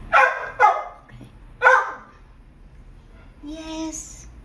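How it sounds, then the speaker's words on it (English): A dog barks three times in quick bursts, fairly close, followed by a brief whine and quieter rustling. "I really apologize for the barking dog."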